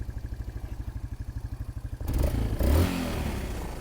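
A small motorbike engine with a fault that keeps its idle too high putters in a fast, even pulsing beat for a couple of seconds, then bursts into a louder, rougher rev close by.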